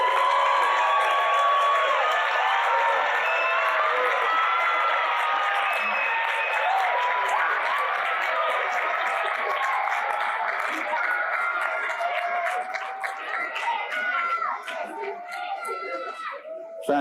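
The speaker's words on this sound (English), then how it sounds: "give them a round of applause." A large audience at the 2022 Village Academy graduation applauds loudly and continuously, with cheers, whoops and crowd chatter mixed in, slowly thinning toward the end.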